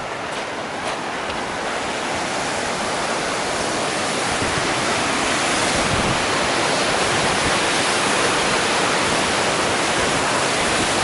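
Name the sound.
swollen creek rushing under footbridge, Grand Canyon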